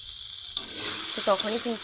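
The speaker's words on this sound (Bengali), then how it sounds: "এখন একটু ভালো করে ভাজা ভাজা করে নিচ্ছি" Okra sizzles loudly in a hot pan as it fries, with a steady crackling hiss that starts abruptly, while someone talks over it.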